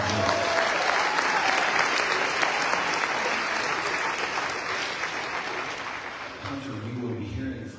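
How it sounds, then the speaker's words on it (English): An audience breaks into sustained applause, a thick wash of clapping that holds steady and then gradually softens, with voices emerging near the end. "Give him a round of applause."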